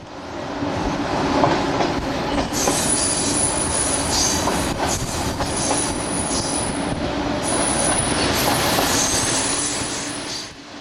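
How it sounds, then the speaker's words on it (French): A train on the single-track Sofia–Burgas line in Bulgaria rolls along at about 45–50 km/h, a loud, steady rumble from inside with rattling, clacking wheels and high wheel squeal throughout. "La vitesse du train ne dépasse pas les 45-50 km/h."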